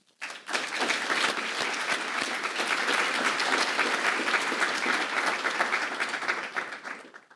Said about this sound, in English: Please, let's welcome them with a round of applause